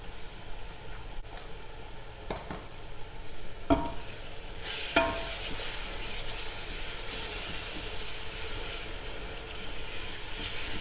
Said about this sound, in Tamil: பூண்டு பேஸ்ட் போட்டு நல்லா கிளறி விட்டுக்குங்க